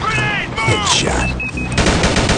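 Sharp single gunshots from the video game Rival Fire, loud and close, layered with game sound effects and a brief voice.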